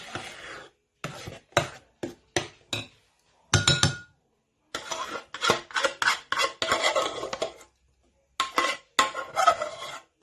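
A metal spoon scrapes and clinks against a bowl while folding a chocolate bavarois mixture, in repeated short bursts of rasping strokes separated by pauses, close and fairly loud.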